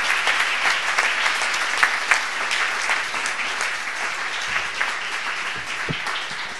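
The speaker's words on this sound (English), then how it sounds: "But we can applaud again for the team of Robert in Humboldt." Applause from the audience at a university award ceremony, continuous clapping with a few sharper individual claps, steady and moderately loud.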